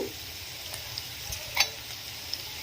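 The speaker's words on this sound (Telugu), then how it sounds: "ఇది మంచిగా పచ్చివాసన పోయేంత వరకు కూడా వేయించుకోవాలి" Onions sizzling in a pan with ginger garlic paste added for keema curry, a steady soft frying hiss with occasional small pops and a stirring scrape, heard alone without talk.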